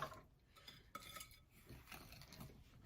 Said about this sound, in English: So 1 cup of sugar and the eggs. So I have to use my whisk.